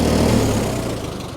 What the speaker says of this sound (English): Now I'm going to also shut off the tractor so it's easier for you to hear.